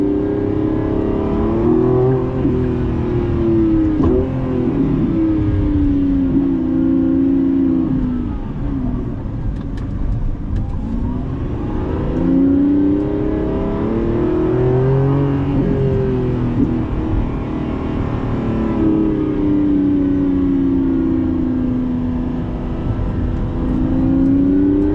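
A Lamborghini Revuelto's engine pulls hard under acceleration on a road test drive, a loud continuous drone that rises and falls in pitch through repeated surges, close and alone.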